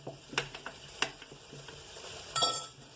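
A spoon stirs a sausage casserole with potatoes and carrots in a pot, making several short scraping knocks and clinks against the metal with a soft sizzle beneath, close and fairly quiet.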